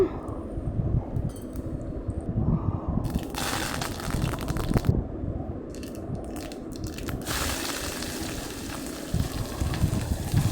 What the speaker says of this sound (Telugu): ఆనియన్స్ పచ్చిమిర్చి తరుగు వేసుకుందామండి